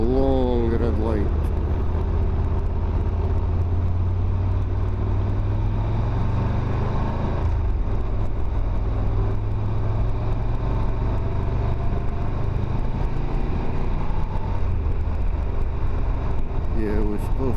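A Honda X-ADV motorcycle held in first gear on a road drones steadily, its engine note climbing as the throttle opens at the start and again near the end.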